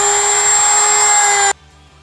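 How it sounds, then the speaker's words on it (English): A Dremel rotary tool fitted with a sanding wheel whines at a high, steady pitch while grinding a small amount of material from an interior trim part of a 2019–2022 RAM 1500, running loud and close, then cutting off abruptly. "I'm going to use a Dremel with a sanding wheel to do this."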